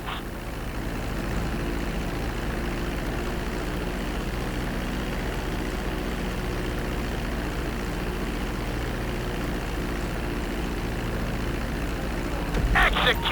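A plane in Grand Theft Auto V decelerating on its landing approach during flying school training, giving a steady, moderately loud engine drone with a low hum, swelling slightly near the end.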